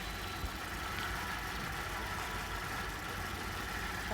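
A 2009 Holden Commodore VE engine idles rough and misfiring, giving a steady, close, rumbling drone that runs unbroken with no talking.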